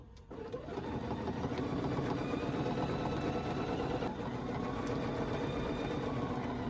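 A sewing machine stitching a quilt along a ruler runs with a steady, rapid mechanical whir, starting up after a quiet moment and continuing close and even throughout, with no talking.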